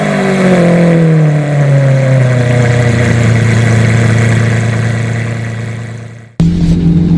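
Lamborghini Aventador engine running close by, a loud deep drone that settles from a higher rev down to a steady idle, cuts out abruptly, then restarts with a sharp burst.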